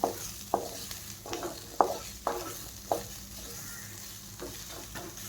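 Onion frying in a kadhai with a little oil until reddish-brown for a Marathi sandgyachi rassa bhaji, a soft steady sizzle broken by about seven sharp scraping stirs of a spatula against the pan, close up with no voices.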